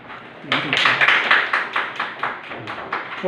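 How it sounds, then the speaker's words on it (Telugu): A group of people at a calendar launch event clap together in a brief burst of sharp, close hand claps that tapers into scattered, uneven claps, with voices heard alongside. "1 సెకండ్ క్లాప్ కొట్టాడు."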